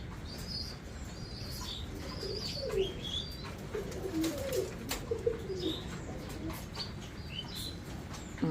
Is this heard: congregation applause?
no